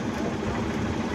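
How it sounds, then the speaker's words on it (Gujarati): A small fishing boat's engine at Okha harbour drones in a steady, continuous low rumble, heard fairly close with no pauses. "જો અને એક બોટ આવે છે, અમને દેખાડું."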